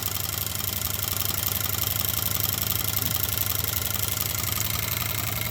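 A small hot air engine spins at about 12,500 RPM with its wick pushed almost all the way in and barely burning, giving a steady, dense mechanical whir with a fast regular pulse that holds even for the whole stretch, with no voices.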